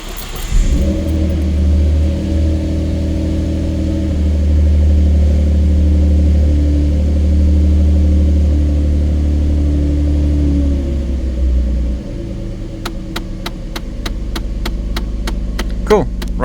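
A twin-turbo Ford Mustang engine is started for a test run and settles into a loud, steady rumbling idle with some revving. It holds for about twelve seconds, then drops off abruptly.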